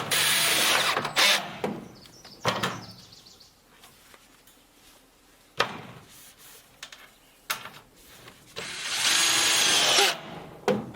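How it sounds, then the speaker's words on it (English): Power drill driving screws into a galvanized metal raised garden bed, with several loud bursts of whirring and grinding separated by quieter pauses and small clicks, the longest burst near the end. "So I'm going to go ahead and screw this in."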